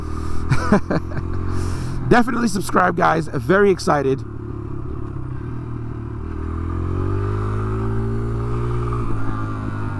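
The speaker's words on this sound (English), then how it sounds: "I'm just downshifting, just letting the engine slow the bike down." A motorcycle engine hums steadily underneath as the rider downshifts to slow the bike, a sustained low drone running throughout while someone talks over the first part.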